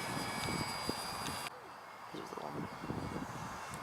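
Engine of a ParkZone Artizan RC airplane, heard faintly from a distance as throttle is applied, with a continuous buzzing drone under people talking outdoors.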